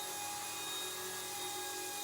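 An Eachine E120 BO-105 RC toy helicopter flies indoors, giving a faint, steady high-pitched whine and whir of its rotor and motor that stays even throughout.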